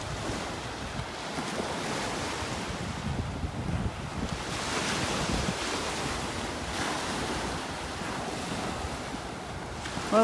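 Waves rolling and breaking along sandbars by Wiggins Pass at a Naples, Florida beach, a steady roaring surf with swells of louder crashes, mixed with wind rumbling across the microphone and no voices.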